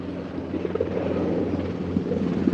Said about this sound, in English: We're now being encircled by helicopters.